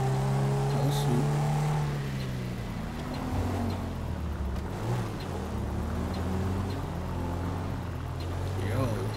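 Car engine droning steadily through a drive in Grand Theft Auto 5, with a rising and falling hum under a voice talking throughout.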